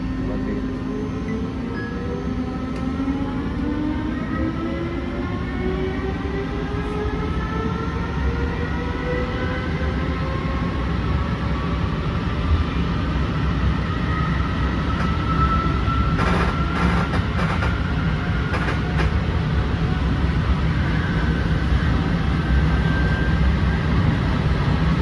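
An ALe 642 electric railcar accelerating hard on a coastal line, its traction motors whining upward in rising tones over a steady loud rolling rumble from inside the train.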